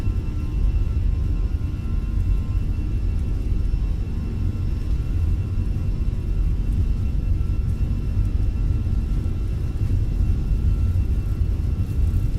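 Fenix A320 engines spooled to takeoff thrust in Microsoft Flight Simulator, a loud, steady, low roaring rumble with a faint high whine, continuous and unbroken throughout.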